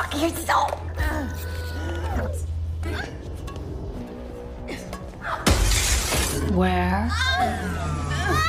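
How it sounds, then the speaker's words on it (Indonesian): A glass door shatters in a film scene, a sharp, loud burst of breaking glass about midway, surrounded by soundtrack effects and voices talking over it. "setelah berhasil memecahkan pintu kaca, Dauter mencoba membunyikan alarm kebakaran"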